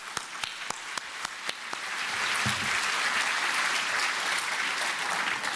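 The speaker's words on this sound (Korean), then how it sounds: "박수로 환영하겠습니다." Audience applause at a church elders' national retreat, welcoming a guest pastor to the stage: a few isolated claps at first, then a dense, steady wave of clapping from the crowd filling the hall.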